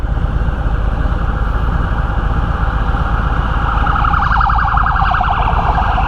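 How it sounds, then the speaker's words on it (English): A wailing emergency siren sounds steadily over traffic rumble, heard while riding a 2021 Harley-Davidson Freewheeler around town, growing louder and sweeping faster toward the end. "I hear sirens."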